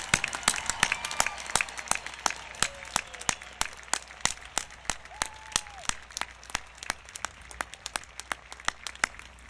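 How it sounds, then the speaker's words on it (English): Audience applause for graduates at a high school graduation ceremony, a steady patter of many hands clapping at a moderate distance, with a few sharper close claps and faint voices underneath. "Can we all please give them a huge round of applause?"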